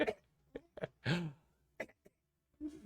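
Several short coughs and throat clearings, faint and spaced irregularly, with a brief voiced gasp in the middle, quiet and alone.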